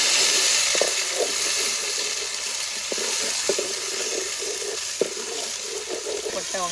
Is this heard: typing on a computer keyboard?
no